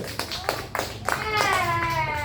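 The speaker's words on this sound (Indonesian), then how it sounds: "Oke, tepuk tangan" A group of young taekwondo students claps hands after poomsae training, with sparse, uneven claps scattered under loud children's voices and chatter.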